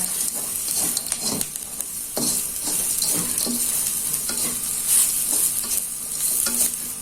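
Steady sizzling of Indonesian spice paste frying in a pan, with occasional scraping stirs over a constant hiss; no voices.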